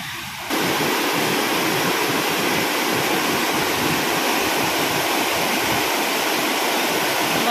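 Floodwater rushes loud and steady down a creek in a forest during the rainy season, a continuous broadband roar that persists throughout the clip.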